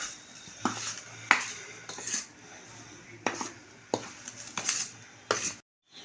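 Chakli flour being mixed with hot oil in a bowl: a handful of separate clinks and scrapes of utensil against the bowl, close and fairly quiet, with short pauses between strokes.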